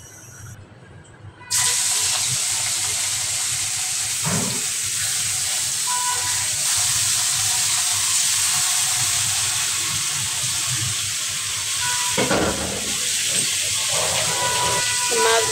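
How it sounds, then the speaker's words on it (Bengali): Fish fries in hot oil with a loud, steady, broadband sizzling hiss that starts abruptly and carries on evenly, flaring briefly a couple of times. "এখন তেলটা গরম করে নিয়ে মাছটা ভেজে নিব"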